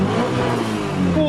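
A 1998 Mitsubishi Lancer Evo 5 GSR with its 4G63 engine revs close and loud, a steady mid-pitched engine roar that climbs slightly toward the end.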